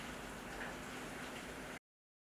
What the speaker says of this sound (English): right now it is pouring rain outside of my house